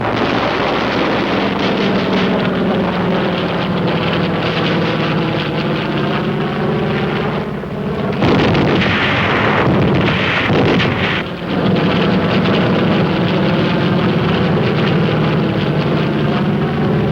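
Navy aircraft strafing with Marine air rocket fire in Korean War combat, a continuous loud roar of engines and gunfire rumbling throughout, with heavier surges of blasts near the middle.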